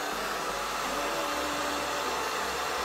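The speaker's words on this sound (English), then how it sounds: "I take my blow dryer and I heat it up" A blow dryer runs steadily to heat a lash curler, giving a constant close airy whoosh with a low motor hum that holds level for the whole few seconds.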